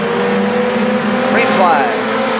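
Race cars at Shadybowl Speedway roar through turns 3 and 4 in a steady, loud engine drone, with a brief rising whine as one passes close, under an announcer's talk.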